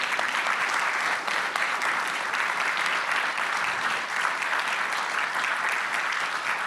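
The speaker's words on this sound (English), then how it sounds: "And now, a round of applause to these wonderful people." Dense, sustained applause from a conference audience for panel speakers on a Brussels stage, a steady unbroken roar of many hands clapping at an even level throughout.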